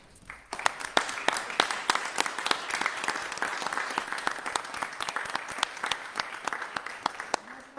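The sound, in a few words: round of applause for department heads at city council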